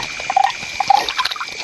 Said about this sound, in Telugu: ఏంటి బా అరుపులు? అది పచ్చ కప్ప.